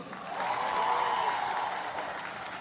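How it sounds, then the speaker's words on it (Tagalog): Applause from a crowd of tribespeople at a supporters' gathering, a steady wash of clapping that swells and holds for a few seconds, with faint voices mixed in. "Palakpak mga tribo!"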